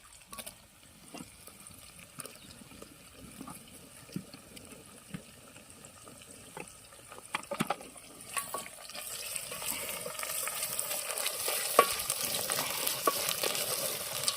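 Tomatoes stirred and frying in a pan, a quiet sizzle with scattered scraping stirs that grows into a denser, louder hiss in the second half.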